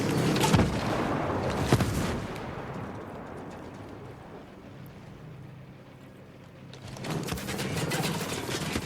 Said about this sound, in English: Mortars, find some cover.